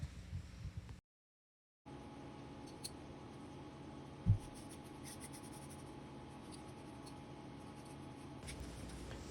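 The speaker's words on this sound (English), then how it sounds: "Thankfully, I keep a gasket scraper in my tool bag." A gasket scraper works a baked-on blower gasket off a fire tube heat exchanger burner, making a faint, steady scratchy rasp. One brief knock stands out partway through, and the scraping stops for a moment near the start.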